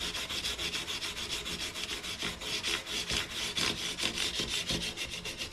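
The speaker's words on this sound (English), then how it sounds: "we can take our sandpaper and just run that down" Sandpaper rubs back and forth against guitar fret ends in a steady, even rhythm of rasping strokes, close up and continuous with no talking.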